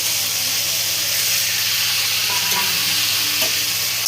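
Yardlong beans fry in a pan with turmeric, chilli powder and cumin powder. A steady, dense sizzle hisses close and continuous, with faint stirring scrapes underneath.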